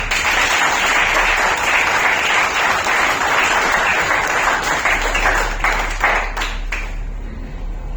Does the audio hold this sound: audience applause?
yes